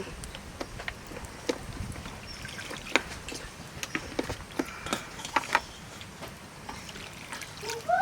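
Water splashes and trickles as Centella asiatica greens are washed by hand in a village kitchen, with soft sloshing, drips and scattered small knocks close by.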